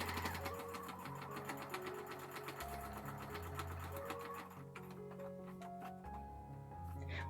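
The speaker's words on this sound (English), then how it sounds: "I usually stitch relatively slowly with a longer basting stitch." A sewing machine stitches a quilt with a long basting stitch, its needle ticking in a fast, steady mechanical rhythm close up, while a person speaks over it.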